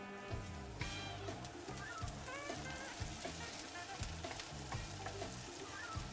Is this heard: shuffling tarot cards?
no